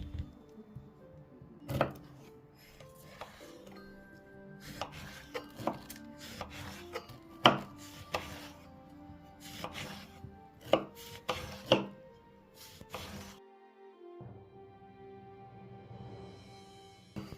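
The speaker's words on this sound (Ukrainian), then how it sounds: "Виріжемо апельсина." A knife cuts through an orange on a cutting board: irregular sharp chops and taps, close by, with occasional clatter between cuts.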